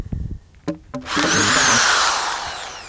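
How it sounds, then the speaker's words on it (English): Electric drill boring holes into a plastic bucket, heard as a loud, sustained whirring grind that starts after a few brief knocks and taps, then holds steady and tapers slightly toward the end. "you take a regular electric drill"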